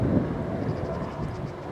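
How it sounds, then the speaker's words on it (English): A helicopter passes overhead near Headley Church on a walk across Headley Heath, giving a steady low rumbling drone with some wind buffeting that holds at an even level throughout. "along with a noisy chopper in the background"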